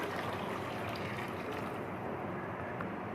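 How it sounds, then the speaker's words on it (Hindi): Steady rushing pour of water into a cooking pot for kofta pulao, a continuous even stream lasting several seconds with no talk. "1 kg हम इसमें पानी ऐड करेंगे"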